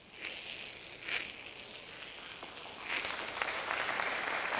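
The crowd at the 1996 TSN Skins Game curling semifinal, Houston vs Bodogh, applauds a shot: soft scattered clapping that builds into fuller, sustained applause over the last couple of seconds.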